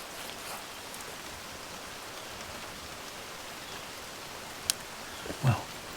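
Rain from a thunderstorm falls steadily outside an abandoned cabin in Georgia, an even soft hiss heard from indoors, broken only by a couple of faint knocks near the end.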